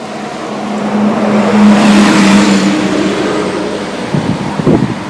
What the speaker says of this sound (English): bus is coming by